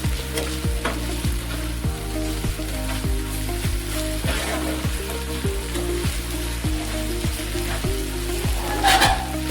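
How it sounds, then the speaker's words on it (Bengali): Minced chicken frying with ginger and garlic for momo filling, a loud continuous sizzle with a regular rhythm of spatula strokes scraping the pan, repeated about every half second, nothing else audible. "কিমা করে রাখা চিকেনটি দিয়ে খুব ভালোভাবে ভাজতে হবে"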